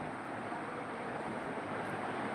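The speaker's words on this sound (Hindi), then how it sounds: "हवा आज बहुत तेज़ चल रही है, सुबह से हवा चल रही है।" Strong wind blowing steadily outdoors, a continuous broad rushing roar that stays loud and even throughout with no voices.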